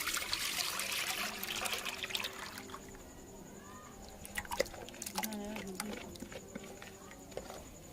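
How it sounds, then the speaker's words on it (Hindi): Water is poured into a rice mixture in a kadhai for rice tikki, heard as a soft trickling pour that fades, followed by faint clinks and light stirring sounds. "उसी हिसाब से पानी भी हमने डालना है इसमें"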